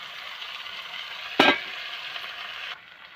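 Ginger, green chili and tomato paste go into hot oil with a sharp, loud hiss that bursts at once, then settles into a steady sizzle before cutting off abruptly near the end.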